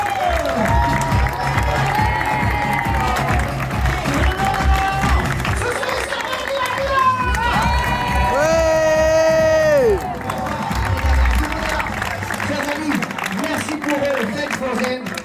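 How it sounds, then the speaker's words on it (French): A hotel cocktail party crowd in Marrakech applauds and cheers for the waiters, a loud sustained mix of clapping and shouts with music playing underneath and voices over it. "On peut les applaudir, on peut les célébrer."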